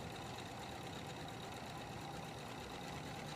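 A sewing machine runs steadily and quickly while stitching the inner leg seam of a pair of pants, a faint, even mechanical whir that never pauses.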